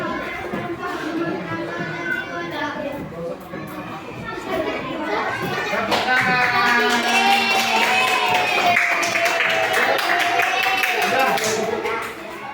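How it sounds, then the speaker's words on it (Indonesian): A group of participants at a teaching training session clap their hands together, dense rapid clapping that swells louder midway, mixed with children's and adults' voices talking over it. "Tepuk tangan."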